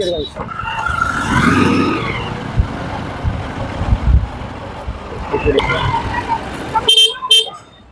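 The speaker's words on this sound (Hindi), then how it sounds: "यहाँ जैसा कि है कभी कभी ट्रैफिक बहुत ज़्यादा होता है।" Busy traffic at a crowded crossroads in Vrindavan, with car engines and honking horns blaring loudly close by, layered under ongoing talk from people nearby.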